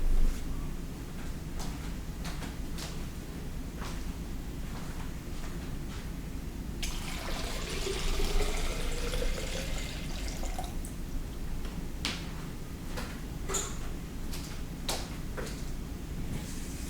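Water runs and fills a container for several seconds in the middle, with a hissing, rising pour over low background hum, surrounded by scattered clicks and knocks.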